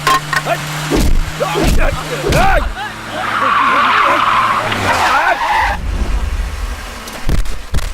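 A car skids with a sustained tire squeal during a Hindi-dubbed action movie car chase. The loud screech rises in the middle, surrounded by engine noise and chaotic chase sounds, with voices mixed in.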